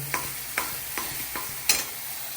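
Spoon scraping and stirring food in a frying pan at home as coriander is added, five distinct clinks at irregular intervals over a low sizzle, fairly quiet, no talk.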